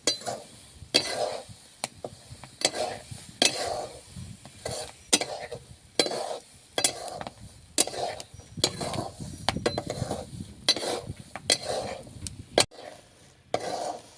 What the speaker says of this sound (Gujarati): હવે આપણું મીઠું ગરમ થઈ ગયું એમાં નાખ્યું માંડવીના દાણા એને હરખાઈ હલાવવાનું